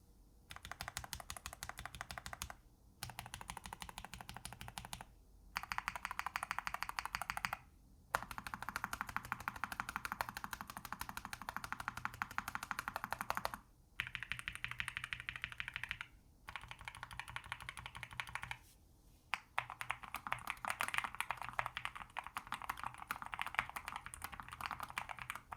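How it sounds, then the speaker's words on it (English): Steady keyboard typing in several bursts separated by brief pauses, with crisp, fairly loud clacky keystrokes close up and no voices, on a NuPhy Air75 V3 low-profile keyboard with tactile brown switches. "This is a tactile switch for folks who like a bit more feedback when you press your keys."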